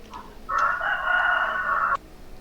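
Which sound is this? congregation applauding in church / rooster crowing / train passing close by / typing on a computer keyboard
rooster crowing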